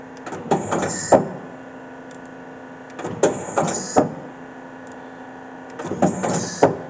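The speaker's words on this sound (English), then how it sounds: "We're going to index the turret." Turret indexing on a Daewoo Lynx 200A CNC turning center with Fanuc 21T control: three separate mechanical whirring cycles, each a clunk, hum and sharp clack, separated by quiet machine hum, close and fairly loud.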